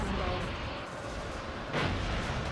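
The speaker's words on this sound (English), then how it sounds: "Some explosion behind me nearly brought me, well, nearly blasted me off the track." A loud blast bursts behind a racing craft in the futuristic racer WipEout Fusion, a deep rumbling boom swelling near the end over a continuous roar of engine and track noise.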